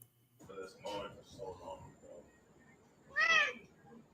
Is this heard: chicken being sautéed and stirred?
no